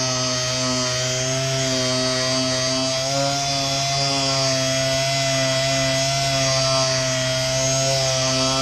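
A power sander grinds down hardened body filler on a Scion xB front bumper, with a steady, close, droning motor hum that holds evenly for the whole stretch.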